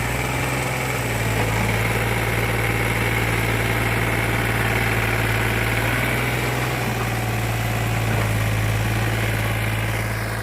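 A tractor engine runs steadily in a rice paddy field at a constant low rumble throughout, loud and close, with no talking.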